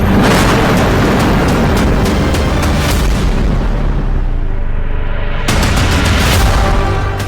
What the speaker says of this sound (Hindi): बेरूत में इजरायली ड्रोन के सीरियल धमाके हो रहे हैं।